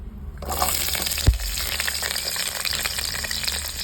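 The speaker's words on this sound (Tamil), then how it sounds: "அதோடைய வெங்காயம், பச்சை மிளகா, கருவேப்பிலை நம்ம எடுத்து வச்சோம் இல்லையா, அதை சேர்த்துக்க போகிறோம்." Onion, green chili and curry leaves hit hot oil with a sudden thump and burst into a loud, steady sizzle that continues close and unbroken, with faint stirring underneath.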